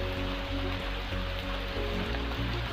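Heavy rain falls outdoors at the Bhimbetka rock shelters, a dense steady hiss with a low rumbling undertone, loud and continuous throughout, with no voices.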